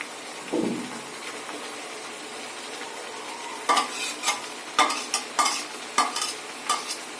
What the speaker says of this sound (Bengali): এখন আমরা মাংসটা দিয়ে দিচ্ছি